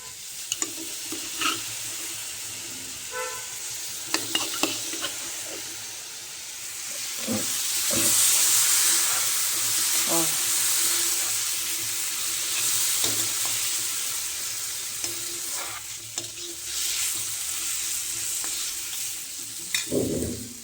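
Soaked masoor dal tipped onto frying onions in an iron tava, setting off a loud, broad sizzling hiss that swells and then settles, with scattered clinks and scrapes of stirring throughout.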